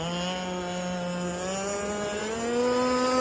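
A two-stroke motorboat engine runs at full throttle, a steady loud buzzing drone with strong harmonics whose pitch climbs gradually as the boat speeds up, close and continuous with no talk.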